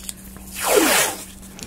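Blue painter's tape is pulled off its roll in one drawn-out, close ripping rasp lasting about a second, swelling and then fading, with no talking.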